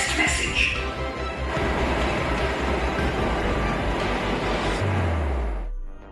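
A Delhi Metro train runs with a steady, loud rumble and rail noise throughout, then a falling low tone as it slows near the end.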